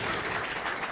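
Broad, continuous applause from the audience at a Caribbean Christmas competition, steady and fairly loud across the whole short moment with no clear pauses.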